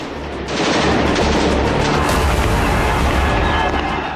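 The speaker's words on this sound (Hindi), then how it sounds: "दोनों गुट के लड़ाके एक दूसरे पर किस तरह से अंधाधुंध गोलियां बरसा रहे हैं।" Dense, loud gunfire crackles and booms without pause, overlapping shots rattling in a sustained firefight between rival fighters in eastern Syria's Deir ez-Zor region.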